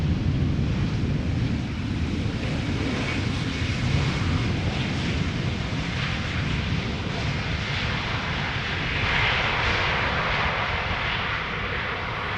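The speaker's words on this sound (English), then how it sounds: "It is Vueling arriving from Bilbao in a Vueling Loves Barcelona special livery." A Vueling airliner in Vueling Loves Barcelona special livery, arriving from Bilbao, roars steadily as it passes, a loud continuous jet engine rumble with broadband wind-like hiss throughout.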